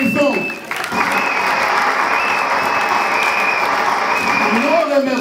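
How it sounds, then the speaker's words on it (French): A school crowd at an end-of-year results ceremony applauds the sister who directs the school, dense steady clapping that swells after a brief dip and carries on throughout, with a voice briefly audible at the start and end. "Applaudissons la sœur, applaudissons"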